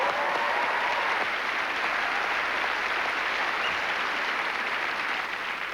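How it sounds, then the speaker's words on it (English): A theatre audience at a televised comedy debate breaks into a sustained round of applause, a dense, even wash of many hands clapping that fades slightly near the end. "Can we have a round of applause for Campbell's generous cashback offer"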